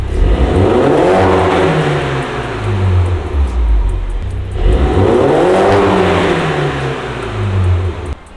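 The exhaust of a third-generation Mini Cooper S John Cooper Works sounds as the engine is revved twice. Each rev rises sharply and then falls away, loud and close, with no talk.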